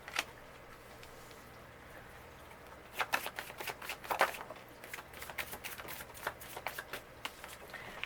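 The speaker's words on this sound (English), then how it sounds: "I dropped these cards coming out." Tarot cards dropped and then handled, giving a quiet scatter of soft clicks and a flurry of crisp, close card flicks and riffles that keep ticking to the end.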